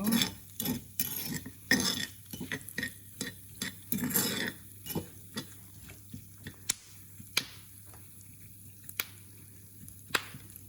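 Pumpkin seeds toasting in a hot pan, with scattered clicks and pops as seeds shift and jump, plus soft scraping stirs, dense at first then sparser, close by with no talk.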